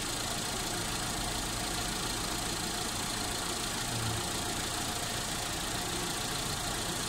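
Mitsubishi Lancer engine idling with the hood open during a coolant flush, a steady low broadband rumble and hum that stays even throughout with no talk.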